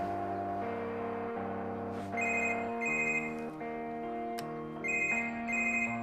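A mobile phone ringtone plays a melodic electronic tune in a repeating pattern of bright tones, loud and close, with no talking over it.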